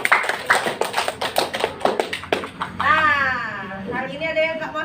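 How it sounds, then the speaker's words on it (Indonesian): A class of children claps together in a series of sharp, rhythmic hand claps, with voices and talk in the room during and after the clapping. "tepuk tangan untuk kita semua"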